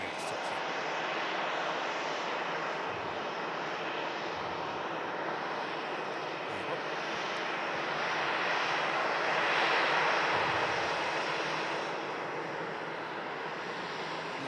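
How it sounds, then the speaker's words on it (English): A Luxair airliner taxis at Manchester Airport, its engines giving a steady, broad roar that swells slightly before easing back, continuous and fairly close. "the Jet2 was just waiting for the Luxair to continue its taxiing, and that can now also continue its taxi"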